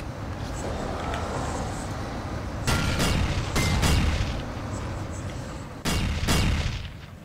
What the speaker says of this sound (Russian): Зашибись, взрывы.